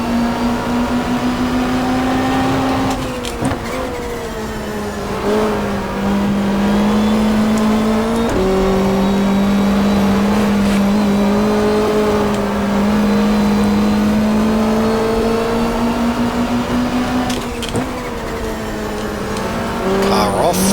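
A 1995 Audi super touring race car accelerates loudly at Winton during an Australian Super Touring Championship race, its engine note rising and dropping through gear changes, with a commentator talking over it throughout.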